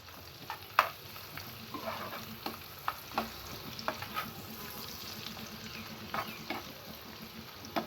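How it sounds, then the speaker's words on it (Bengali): Chopped garlic and onion fry in a pan for sponge gourd curry, a soft continuous sizzle with regular spatula scrapes and occasional sharp clinks, quiet and close throughout. "একটু ভেজে নেব লাল লাল করে নেব"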